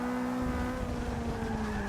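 A Mercedes-Benz 190E race car in Forza Motorsport 6 spins out after hitting a curb, a steady engine drone mixed with tire skidding and squeal, moderately loud and continuous.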